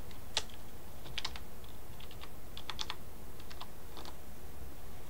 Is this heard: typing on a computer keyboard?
yes